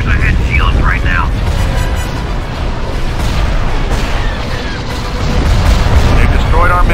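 Missile launchers explode in a Star Wars space-station battle game, a dense, continuous roar of heavy blasts and low rumbling that stays loud throughout, with brief higher effects flaring over the din.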